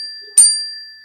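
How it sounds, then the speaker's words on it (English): A single bright bell strike rings out once, sharp and close, then decays smoothly over about a second against near silence. "that's the bell again"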